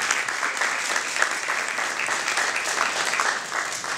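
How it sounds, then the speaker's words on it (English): Round of applause for a minister from an audience at a community discussion event, even, moderately loud clapping sustained throughout with no talking. "Can we give a round of applause for the minister?"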